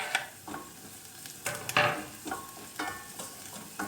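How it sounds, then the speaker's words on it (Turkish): Chopped garlic is added to onions frying in a pan and stirred, giving soft sizzling with irregular scrapes and clinks from the utensil, close and fairly quiet, with no talk. "dakika çevirdiğimiz soğanlarımızın üzerine sarımsaklarımızı ilave ediyoruz"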